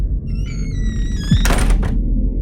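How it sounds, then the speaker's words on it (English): Door sound effect from a horror story telling, a smokehouse door swung open: a rising creaky squeak followed by a heavy thunk and a short rattling scrape, loud and close with no voices. "When she opened the door"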